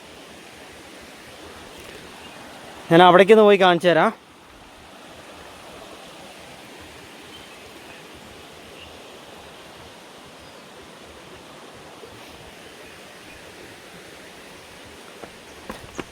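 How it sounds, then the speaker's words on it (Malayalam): A low-water mountain stream flowing down from Chembra mountain over large boulders at Meppadi gives a steady, soft broadband rush throughout, with someone speaking briefly near the start. "ചെമ്പ്രമലേൻ്റെ മേളിൽ നിന്ന് ഒഴുകി വരുന്നതാണ് കേട്ടോ ഈ വെള്ളം"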